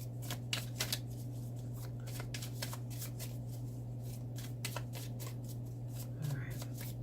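A deck of tarot cards is shuffled in a run of quick, papery riffling bursts, close and steady, over a constant low electrical hum.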